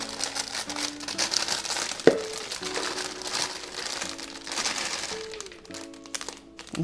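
Food package crinkling and rustling as it is cut open and handled over a bowl, steady close plastic crackle with one sharp snap partway through.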